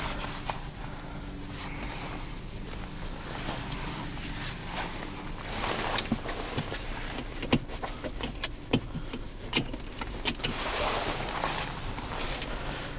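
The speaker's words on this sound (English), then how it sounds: "That drops the rear window." Rear power window of a 2022 Toyota 4Runner TRD Sport sliding down, a steady motor hum inside the cabin with several sharp clicks and clunks partway through.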